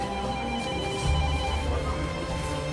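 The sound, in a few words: telephone ringing in a café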